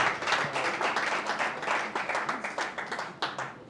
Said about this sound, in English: We also like to appreciate Finsbury Hines Limited. A round of applause for them.